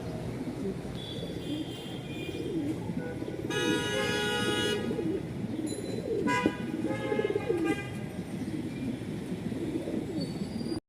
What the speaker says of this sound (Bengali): মাশাআল্লাহ দুই জোড়া কবুতর দেখতে পাচ্ছেন